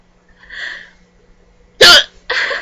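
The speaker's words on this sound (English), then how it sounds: "I get very unattractive hiccups." A person's hiccups, several sharp, loud bursts alone with short gaps between them, the strongest near the end.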